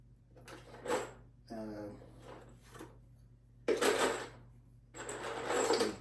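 A power driver sinks GRK cabinet screws into a wooden bathroom vanity in two loud whirring bursts near the end, after someone speaks briefly over a low background hum.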